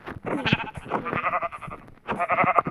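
Several Minecraft sheep bleats in short succession, close and fairly loud, with a brief pause before a final bleat; the tone has a game-like, synthetic quality.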